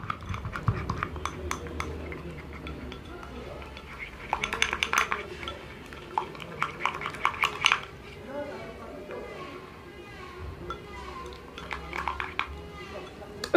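Turmeric face mask ingredients being stirred together in a bowl, with repeated clinks and scrapes of a utensil against the bowl coming in bursts, close by, while someone talks over much of it.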